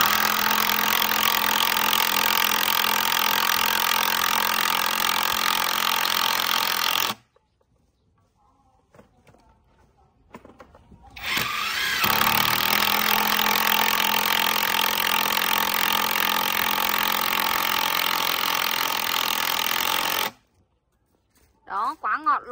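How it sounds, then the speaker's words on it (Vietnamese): A Boshun 330Nm cordless impact driver drives wood screws in loud, sustained rattling bursts with two clear stops between runs; close and dominant, with no voices over it. "em đang gọi là bắn vít gỗ cho mọi người xem nhá"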